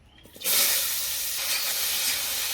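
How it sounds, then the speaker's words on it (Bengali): Papaya and potato pieces dropped into hot oil for village-style cooking, a sudden loud hiss that starts after a quiet moment and holds steady as a broad sizzle, with no one talking. "পেঁপে আর আলুটা কিন্তু আমি ভেজে নেব প্রথমে, তার জন্য দিয়ে দিলাম।"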